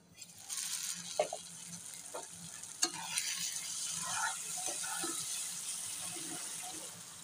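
Tomato masala for a hilsa fish bhuna being stirred in a pan after the lid is lifted, with steady sizzling and scattered scraping clicks of a spoon against the pan, close and moderately loud.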